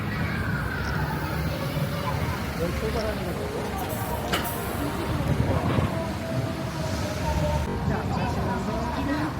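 Sapporo tram pulling away from a stop, a low steady rumble of wheels and motor with faint rail squeal, heard from on board amid light ambient chatter.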